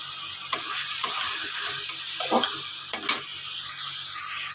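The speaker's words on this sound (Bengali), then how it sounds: "নুনটা স্বাদ মতো নুনটা দিয়ে ভালো করে কষিয়ে নেব" Cabbage and fish head sautéing with salt in a pan, a steady broadband sizzle with several short scraping stirs of a spatula spread across it, close and fairly loud, no talking.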